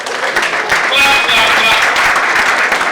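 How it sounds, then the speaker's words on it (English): An audience gives a round of applause, loud dense clapping that fills the whole short stretch, with a voice speaking faintly through it. "Please give him a good round of applause"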